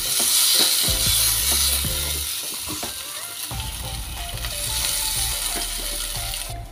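Aloo tikki patties fry in a pan with a continuous crackling sizzle, joined by repeated scraping and clattering of a utensil against the pan, fairly close and steady throughout.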